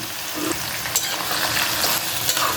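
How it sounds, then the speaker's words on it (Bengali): Medium-sized chopped onions fry in a pan with a steady close sizzle and occasional stirring scrapes, no voices. "এখন ভালোভাবে পেঁয়াজটাকে একটু ভাজবো আমি"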